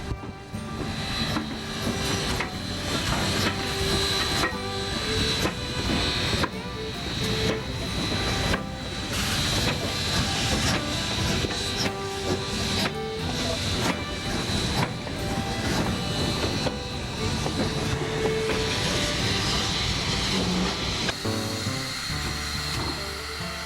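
An old train on a private charter run on the Cumbres and Toltec Railroad in 1988 rumbles steadily and loudly for the whole stretch, with hissing and metallic clatter and a brief tonal, whistle-like note rising near the end.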